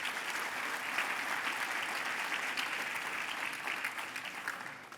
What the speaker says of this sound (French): on va les applaudir un après l'autre